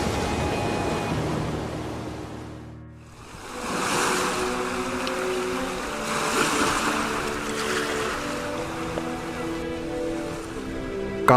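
Waves wash and churn steadily as a large, grand ship arrives by sea, a broad continuous surf-like rush with wind, loud and alone.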